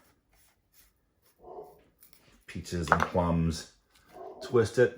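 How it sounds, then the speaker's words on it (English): A dog barks and whimpers a few times indoors in a home kitchen while a person talks over it during tart-making. "Sorry for the barking dog."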